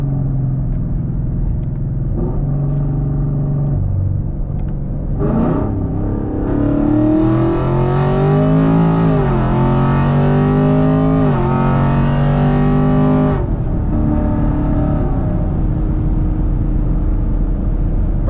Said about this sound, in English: Do a little 60 roll for you guys here